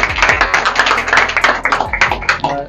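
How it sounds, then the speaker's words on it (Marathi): A quiz audience claps for a contestant's correct answer, loud close applause with distinct, rapid overlapping claps that fade toward the end, no talking over it. "सरांसाठी जोरदार टाळ्या."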